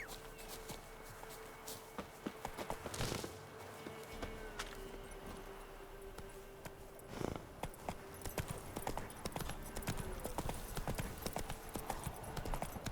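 Horse hooves clip-clopping in the video game Witcher 3, a steady walking rhythm of crisp hoofbeats on hard ground, with a faint ambient hum behind and occasional louder thumps.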